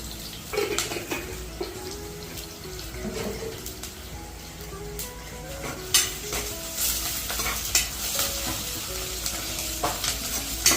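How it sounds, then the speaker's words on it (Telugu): Cashews, black pepper and cumin fry in a pan for pongal, a continuous nearby sizzle with frequent clinks and scrapes of a spoon stirring against the metal. "సో ఇలా వేయించేసుకొని కొంచెం అన్నీ వేగిన తర్వాత మనం ఎసురు పోసేసుకోవడమే."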